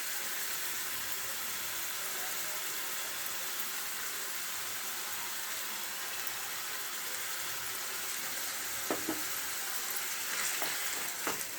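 Ground masala paste for chickpea palya frying in a pan, giving a continuous crackling sizzle at a close, moderate level, with a few sharp spoon clinks against the pan near the end.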